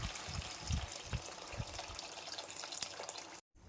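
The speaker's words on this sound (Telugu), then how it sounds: "పులుసుకు సరిపడా వాటర్ వేసుకోవాలి." Water pours into a cooking pot for a tamarind-soured fish stew with mango, a steady faint splashing stream that cuts off abruptly near the end.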